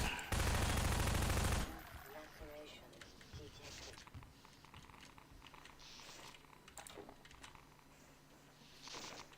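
Semi-automatic gunfire aimed at zombies in a video game: a loud, dense burst of rapid shots at the start, then quieter game sounds and clicks under talk.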